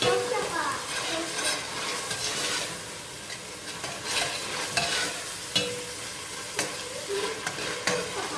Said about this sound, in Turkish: Evet soğanı koydum, kavurdum, kıymayı koydum, kavruldu. Şimdi salçasını ekledim.